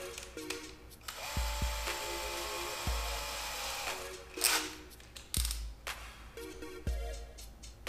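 Power drill fitted with a 7/64 bit boring through press board, a steady whirring drive with bursts of higher grinding as the bit bites, close and fairly loud, interrupted by sharp knocks and handling clunks.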